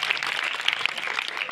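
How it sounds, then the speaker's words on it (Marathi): Audience at a hypnotism show clapping loudly in welcome, a dense burst of rapid overlapping applause that runs evenly from start to finish. "जोराने टाळ्या वाजवून स्वागत करा."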